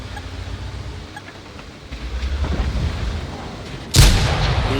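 Artillery shells pound down in a naval battle video game, a steady rumbling barrage that builds in the middle and ends with a loud close impact.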